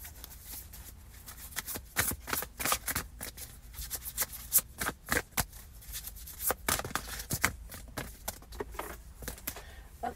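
Love tarot card deck being shuffled by hand, a dense run of crisp riffling flutters and slaps repeating steadily for several seconds, close and fairly quiet, with no talking.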